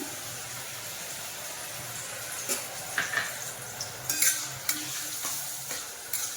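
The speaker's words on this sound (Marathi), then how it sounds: "मऊ होईपर्यंत केळी शिजवायची तुपामध्ये" Bananas cook in ghee in a pan with a steady close sizzle, broken by repeated spatula scrapes and clinks against the pan.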